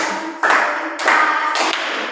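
Children in a classroom clap together in rhythm, three loud unison bursts of hand claps at steady intervals, close and clear, with no voices over them.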